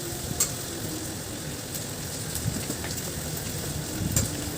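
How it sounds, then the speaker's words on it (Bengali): Ground spice paste frying in a pan with whole spices, a steady low sizzle at moderate level, punctuated by a few faint stirring taps and scrapes. "এবার এটাকে লাল লাল করে ভেজে নেব আমি।"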